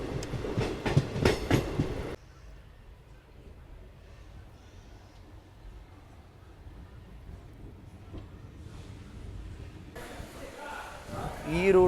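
The Harihar–Hospet passenger train climbs uphill with a steady, low rolling rumble of wheels on rails. Louder noise rises at the start and again near the end.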